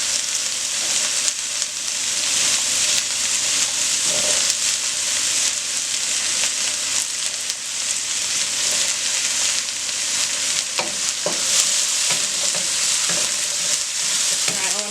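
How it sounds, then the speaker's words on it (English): Onions and carrots for a low-carb stir fry sizzle loudly and continuously in a hot pan, with scattered clinks and scrapes from stirring breaking through the hiss. "We've been stirring these around for about 5 minutes, getting some color on them onions"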